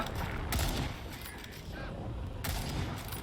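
Rapid gunfire in the Second Extinction video game comes in a few close, loud bursts separated by quieter gaps of game ambience.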